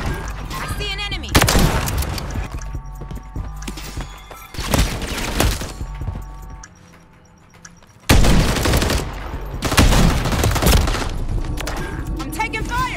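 Rapid bursts of gunfire and booms in a Search & Destroy match of a shooter video game, loud and repeated in clusters with brief lulls between volleys, a voice speaking over parts of it.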